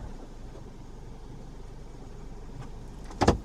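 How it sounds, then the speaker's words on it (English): A car bought cheap to flip creeps backward a few inches in reverse, its engine giving a steady low idling rumble before a sharp clunk near the end. "I'm gonna go into reverse first. Can't really move too far, but let's go back a little bit."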